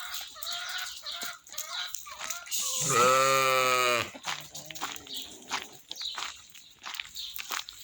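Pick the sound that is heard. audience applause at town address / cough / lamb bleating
lamb bleating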